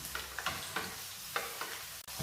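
Three small onions with cloves and curry leaves frying in a pan for lamb karahi, a quiet close sizzle broken by a few spatula scrapes and taps.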